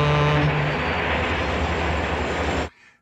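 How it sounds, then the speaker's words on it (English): A big old train passes close by in a steady, loud, continuous rumble and roar, then cuts off abruptly near the end, leaving only faint background. "Big old train."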